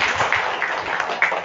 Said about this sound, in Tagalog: Hataga na to o masipang palakpak ang atong Ginoo